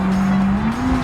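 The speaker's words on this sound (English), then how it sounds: "I can already feel it wheel spinning" A car in BeamNG spins its wheels, the engine droning steadily and climbing slightly in pitch while the tires hiss and squeal, close and loud for a brief second.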